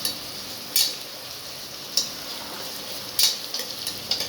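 Ginger garlic paste fries in a pan with a low, steady sizzle, broken by several sharp metallic scrapes and clinks of a spoon stirring against the metal.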